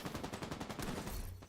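Rapid gunfire in a video game, a fast string of sharp shots repeating steadily for about a second and a half, fairly quiet and distant-sounding, with no talk.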